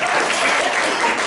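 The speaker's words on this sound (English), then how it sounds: "Why do you clap?" An audience at a stand-up comedy show applauding, a dense, loud wash of clapping that holds steady for a moment, with no speech over it.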